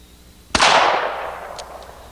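A single CCI .22 Magnum cartridge fires from a bolt-action rifle as one sharp, loud crack, followed by a short decaying ring and a faint click afterward.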